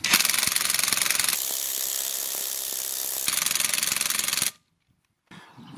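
A Parkside 20V cordless impact wrench rated at 400 Nm hammers a nut tight in loud, continuous rattling bursts for about four and a half seconds, with a brief pitch change midway, then stops abruptly before a faint restart.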